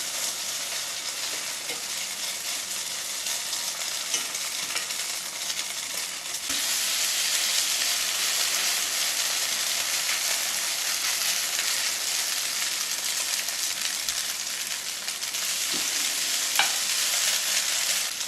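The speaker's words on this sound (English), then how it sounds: "we're gonna fry it about 1 minute on each side or so" Flourless potato pancakes fry in a pan with a loud, continuous sizzle and crackle. The hiss grows fuller partway through, with occasional faint utensil clicks.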